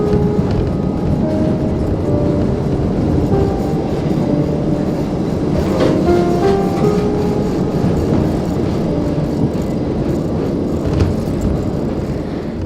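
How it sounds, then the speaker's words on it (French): Lisbon's number 28 tram rolls along its rails through the city, giving a steady, loud rumble with wheel squeals and clatter throughout and no voices. "je viens de terminer ma belle petite ride de tramway, le tramway numéro 28"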